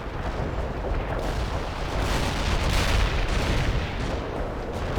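Dense, continuous battle noise of gunfire and explosions in the 2007 strategy game World in Conflict, a steady loud rumble with booms swelling near the middle, no talking.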